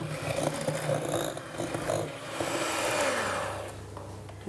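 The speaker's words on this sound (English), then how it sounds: "I'm going to go with an electric whisk, which makes a hell of a noise." An electric whisk beats butter and sugar into a creamy mix for After Eight chocolate chip cookies, a steady loud whirring drone that holds throughout with slight shifts in pitch and scraping texture, no voices.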